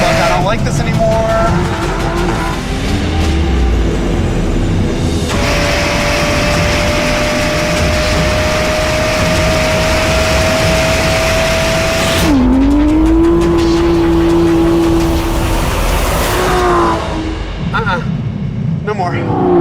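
Aston Martin V12 Vantage S with seven-speed gearbox accelerating hard on dirt, engine note rising steadily through gears with shifts and tire noise, loud and continuous, with someone talking over it throughout.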